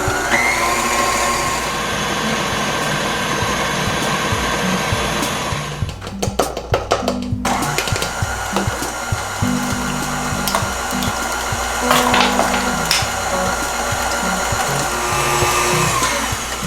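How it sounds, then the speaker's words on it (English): An electric mixer or beater whips heavy whipping cream in a bowl for an ube tres leches cake, with a loud steady motor whir that briefly cuts out midway and then resumes with clattering against the bowl. "So I'm gonna start by just whipping the heavy whipping cream"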